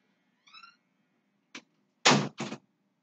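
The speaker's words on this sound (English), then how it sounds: "Stop stamping." Heavy thuds of feet stamping on a floor during a Fortnite live event: one short thump followed by two louder, broader stomps close together, with a brief tonal chirp beforehand.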